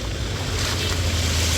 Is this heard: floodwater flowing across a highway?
yes